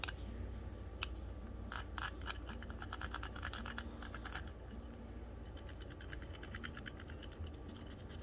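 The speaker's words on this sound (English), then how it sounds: "so I want to rub that in just one direction" Tape being rubbed down in one direction with a tool while making a four-leaf clover memorial pendant, heard as faint, close, repeated scratchy strokes in quick irregular bursts over a quiet background.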